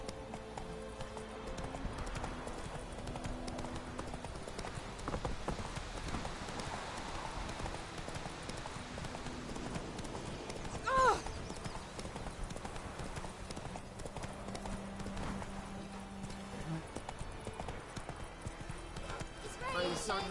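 Roach, Geralt's horse in The Witcher 3, gallops with steady rhythmic hoofbeats close by through the whole stretch, a brief whinny near the middle, over ambient game sound with someone talking at points.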